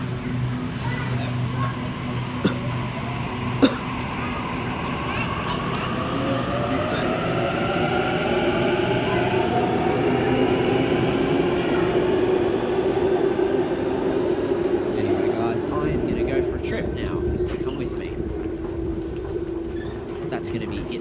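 A Sydney suburban train pulls out of Epping on the Chatswood rail link, bound for Hornsby: a steady close rumble with rising motor whine, continuous for the whole span, a couple of sharp clicks early on and brief talk mixed in.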